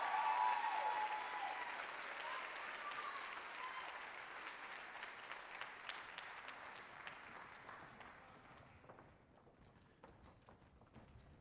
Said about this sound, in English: Special round of applause to Alex.